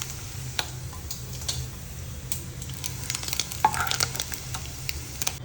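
Prawns frying in coconut oil for prawn pickle make a soft continuous sizzle, with scattered ticks and scrapes of stirring and a brief louder burst of crackling near the end.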